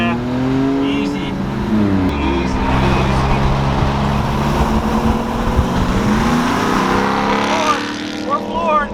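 Car floored in a drag race against a Ram TRX, engine revving hard and climbing through gears with a steady loud roar, voices talking over it inside the cabin.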